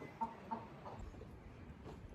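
Chickens at a backyard coop give soft, faint clucks, a few brief calls rising over quiet outdoor background noise.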